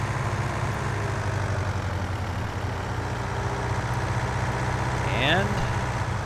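A tractor engine in the video game Farming Simulator 2019 idles in a steady low drone throughout, with a brief higher whine near the end and a voice talking over it.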